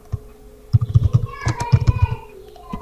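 Quick bursts of typing on a computer keyboard, clattering keystrokes in short runs close to the mic, with faint talk.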